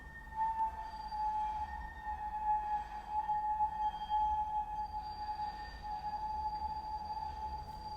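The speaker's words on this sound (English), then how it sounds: "the tram's been disturbing us this whole video" A steady low rumble with a sustained tonal hum and faint high whine, like a tram rolling past at a distance, with no talking.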